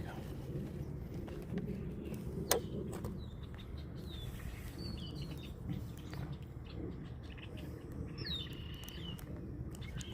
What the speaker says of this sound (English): You hear all these birds in the cattails?